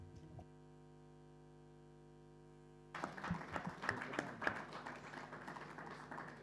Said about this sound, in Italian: l'applauso significa buon lavoro da parte del Consiglio al dottor Novara